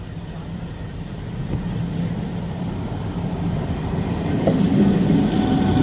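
A passenger train rolling through West Bengal gives a steady rumble and clatter, with a faint rhythmic clack from the wheels, and grows slightly louder toward the end.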